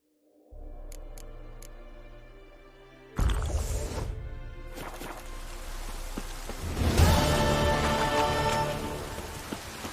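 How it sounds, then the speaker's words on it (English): Rain falling in The Witcher 3 video game, a soft patter that swells into a loud steady downpour after a few seconds and intensifies again later, with sparse drips at the start. "Looks like rain."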